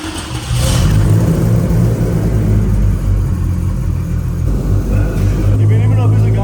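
A 1000 HP Toyota Supra engine fires up and settles into a loud, deep, steady rumbling idle close by, with a slight change in tone near the end.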